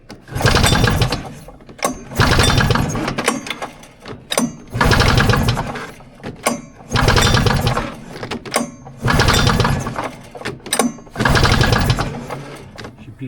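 A 1982 Polaris Cutlass SS snowmobile engine cranks over during a compression test in six loud, evenly spaced bursts of rapid chugging, each lasting about a second, separated by short pauses.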